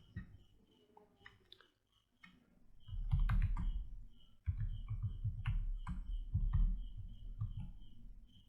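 Fingers tap a computer keyboard while entering a Linux password-change command, first sparse light keystrokes, then two dense bursts of rapid, close clattering typing.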